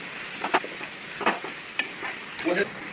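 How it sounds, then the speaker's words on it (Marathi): Modak filling (saran) being stirred in a pan over a medium flame, giving a few scraping, spoon-against-pan stirs in an uneven rhythm over a soft, steady sizzle, close and fairly quiet. "सारण सगळं मिक्स एकजीव करून घ्यायचं आणि मिडियम फ्लेमवरती करून घ्यायचं आहे"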